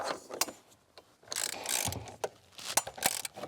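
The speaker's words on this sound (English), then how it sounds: "next we'll tighten it up with a ratchet" Rapid clicking of a ratchet tightening a steering wheel bolt on a Hyundai or Kia, in short close bursts with pauses between them.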